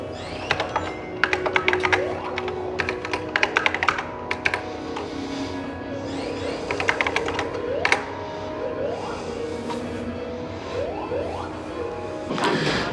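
Keys on a vintage computer keyboard at a computer museum are struck in short, uneven bursts of sharp clacks and taps, nearby and moderately loud, with brief pauses between flurries.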